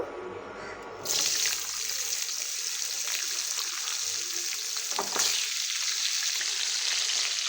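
Vegetable stalks dropped into a hot pan of oil set off an abrupt, loud, steady sizzle that begins after a quiet second and continues unbroken while frying.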